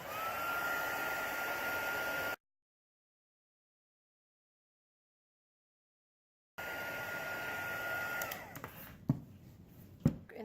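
A heat tool blowing hot air onto embossing powder, a steady loud whoosh that cuts out for a few seconds, then resumes and ends with faint clicks and taps.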